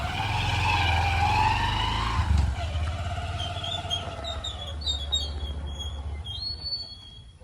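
Vehicle engine starts and drives off during a village Vishwakarma Puja: a loud, steady engine drone with a rising tone that eases into quieter running, and high whistling tones near the end.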